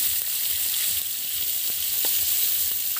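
Kashmiri red chili powder sizzling in hot oil in a pan, a continuous close frying hiss with faint scattered crackles and no voices.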